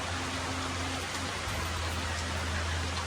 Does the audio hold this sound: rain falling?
yes